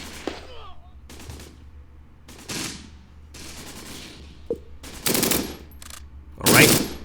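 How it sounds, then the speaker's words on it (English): A tank's turret machine gun firing in the video game Close Combat, several separate loud bursts of rapid fire spaced a second or so apart over a quiet background. "We might as well use his turret and his machine gun as much as we can against anything he's got over here."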